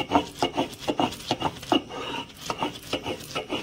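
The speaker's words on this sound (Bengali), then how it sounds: "সেই মুসুর ডালটাকে এবার ভালোভাবে বেটে নিচ্ছিল" Soaked red lentils are ground into paste on a grinding stone, a close, rhythmic gritty scraping with repeated back-and-forth strokes at a steady pace, without voices.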